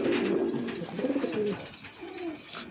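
Coos from a large, long-necked male pigeon offered for sale, a few soft, low, throaty phrases repeating close by with no talking.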